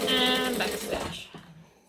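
A domestic sewing machine back stitching fabric: a brief close mechanical whirring burst with rapid needle rhythm that slows and stops after about a second, followed by quiet.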